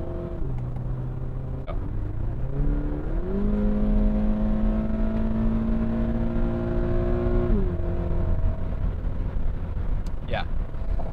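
A 2020 Toyota 86 GT engine accelerates smoothly from inside the cabin, a steady rising drone with gear-change steps. A short exclamation is heard.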